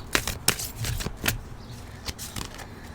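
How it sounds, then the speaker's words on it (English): A deck of cards is shuffled at close range in a tarot-style card reading, giving a run of crisp riffling snaps and flutters in irregular bursts with no talking. "I'm going to shuffle another deck."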